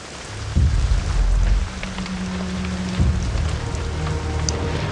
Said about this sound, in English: The rain was just really weird there for a second.